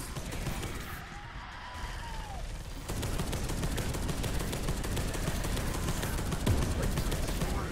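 Rapid gunfire in the sci-fi shooter Space Hulk: Deathwing, a dense rattle of shots that grows louder and more continuous partway through, layered over game ambience.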